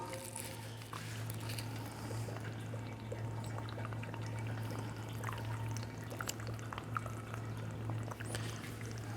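Tap water running through the cooling system of a home wine still, a steady low hum with faint trickling and bubbling underneath, continuous and fairly quiet with no talking.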